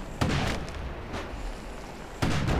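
Power shot fired in the action game Bastion, heard as two sharp booming blasts about two seconds apart over a dense, loud rumbling bed of game sound.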